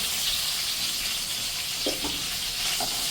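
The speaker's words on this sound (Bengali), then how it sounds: "মাছগুলো এখন আমি হালকা করে ভেজে নেবো, বেশি কড়া কিন্তু ভাজবো না" Hilsa fish lightly frying in oil, a steady close hiss and sizzle with a few soft pops near the end, no voices.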